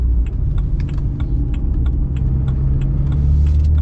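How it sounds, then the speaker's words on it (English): Steady low engine rumble of a BMW with a DCT swap and single-mass flywheel cruising in fifth gear at 50 km/h, with faint ticking and rattling noises scattered over the smooth drone. "We're in fifth gear doing 50, 50 kilometers an hour."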